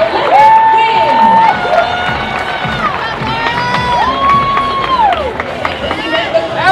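A crowd at the CrossFit Games cheers and applauds loudly for the top three athletes, with shouting voices rising over the din and a sustained loud roar throughout.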